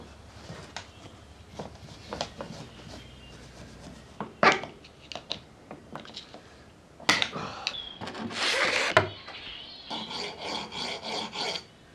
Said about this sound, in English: Don't panic, this is just for the corrosion. More of just a little polish.